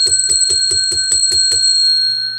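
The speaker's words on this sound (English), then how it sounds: "I got to stop doing those bells." A bright bell rings in a rapid run of about eight evenly spaced strikes, loud and close, the tone lingering briefly after the last hit.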